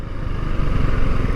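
Steady engine drone of a motorcycle ridden in second gear on a touring ride from Yelagiri to Vaniyambadi, close and continuous with a low rumble and wind noise, no talking.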